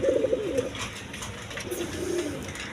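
A pair of red Gola pigeons cooing close by, soft repeated low coos rising and falling over faint background noise.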